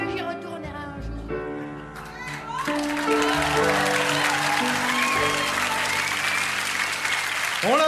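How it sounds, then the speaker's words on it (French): A studio audience bursts into loud sustained applause with some cheering for a young girl singer on a French TV talent show, following the closing bars of her sung song with music. "On l'applaudit comme elle la mérite."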